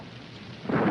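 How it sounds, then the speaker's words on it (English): Heavy rain and a low rumble of thunder from a 1955 film soundtrack, a steady broadband wash that swells louder near the end of the moment. "It's raining."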